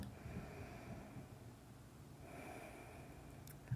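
Slow, deep breaths are drawn in and let out twice, quiet and close, with no talking.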